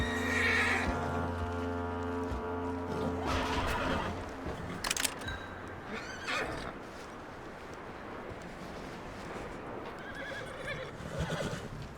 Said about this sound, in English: bring that horse when you're done